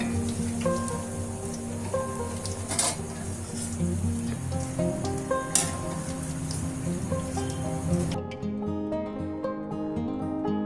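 Bread slices frying in a pan until brown for bread halwa: a steady, close, dense sizzle and crackle of hot fat running throughout, with occasional sharper pops and a faint clink, no voices.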